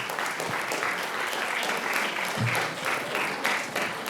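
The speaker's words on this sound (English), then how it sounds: "Let's hear a big round of applause for Thomas Anna's enough food for thought and for action." A large audience gives a sustained round of applause, dense and steady throughout with no voices breaking through.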